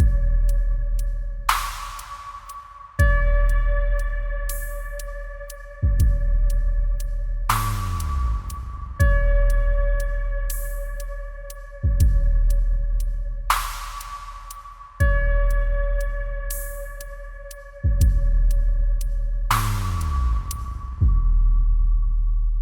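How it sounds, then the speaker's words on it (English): An analog drum machine plays a long, lush ambient patch: deep booming kicks repeat every few seconds, each trailed by sustained humming tones and bright hissy bursts that decay slowly, with no voices. "This is called Ambient Forever, and it's because it's very long, lush, and ambient, especially for a drum machine."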